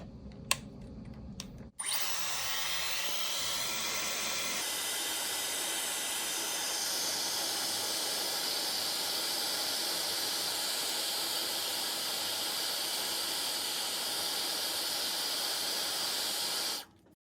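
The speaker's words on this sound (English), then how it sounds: "warm up the display with a hairdryer for about 1 minute" A hair dryer switches on after a brief click and blows with a steady loud whooshing hiss for about fifteen seconds while warming an Apple Watch Series 9 display, then cuts off.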